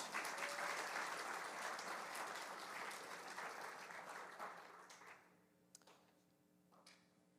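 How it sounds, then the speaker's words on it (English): Applause from an audience at an elementary school awards ceremony, a dense, sustained wash of clapping that fades out near the end and leaves a few scattered claps in a quiet room. "please give them all a round of applause"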